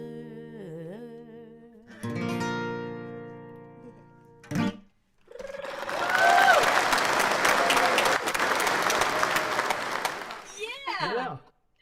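Tones and chimes, then a burst of clapping and cheering swells loudly for several seconds before fading, with a short whoop at the end.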